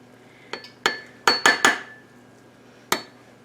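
A dish handled in a kitchen, about seven sharp ceramic clinks and taps in an irregular cluster, close and bright against a quiet background.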